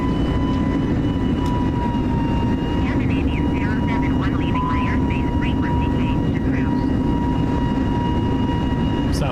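Airbus A320 jet engines in Microsoft Flight Simulator 2020 hold a steady broadband roar during the climb after takeoff, with a constant tone and faint chirping overtones running through it.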